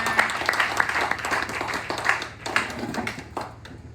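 A church congregation applauding, steady rhythmic clapping from many hands at moderate distance with scattered louder claps and faint voices mixed in.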